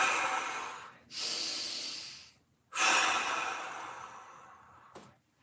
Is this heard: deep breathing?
yes